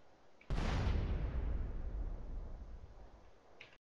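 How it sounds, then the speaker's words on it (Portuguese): A grenade goes off in the MTA multiplayer game: one sudden loud blast with a deep booming low end, then a long rumbling tail that fades over a few seconds. "Eu vou tentar ativar uma granada aqui no servidor e mostrar como é que fica a explosão"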